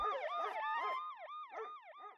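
A loud emergency siren wails in fast, rising and falling sweeps, up close and alone.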